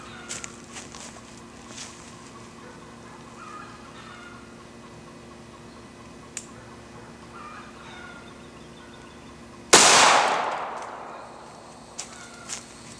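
A single sharp, loud gunshot from a 150 grain DRT .45 ACP frangible round fired into ballistic gel cracks out close by and rings off in a decaying echo. It is preceded by quiet outdoor ambience with faint scattered ticks.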